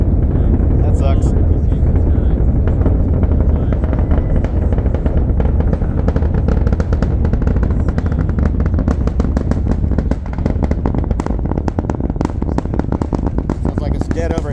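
A SpaceX Starship rocket launch roars overhead, hidden above cloud cover, a dense continuous crackling rumble with rapid pops and bursts that holds loud and steady throughout.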